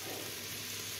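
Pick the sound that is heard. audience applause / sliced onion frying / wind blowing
sliced onion frying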